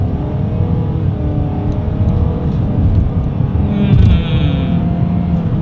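A 2020 Nissan Sentra accelerates hard along a straightaway, heard from inside the cabin as a loud, steady engine drone that rises gradually in pitch, with road rumble underneath and no talking.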